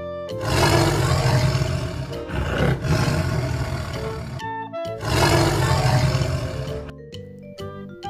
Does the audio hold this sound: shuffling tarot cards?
no